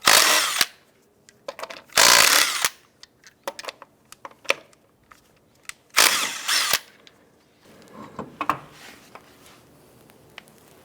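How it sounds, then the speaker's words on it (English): Power tool with a 19mm socket spins off the lug nuts on a 2002-2007 Jeep Liberty front wheel, loud bursts of rattling whir in short separated runs, interspersed with clicks and the clatter of loosened nuts, no talking. "Using your 19mm socket, let's go ahead and remove the lug nuts."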